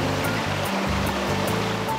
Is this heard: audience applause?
no